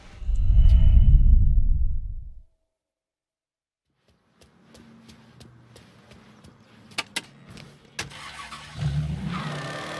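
A loud car engine rumble in Mafia III cuts off abruptly into silence, then faint clicks, thumps and a low revving engine return softly, the car driving off-road.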